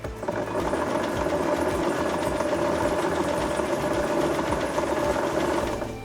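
The electric motor of a converted Temu water bike whirs steadily as it is throttled, driving a belt sprocket with a constant mechanical hum and rattle, close and loud with no talking.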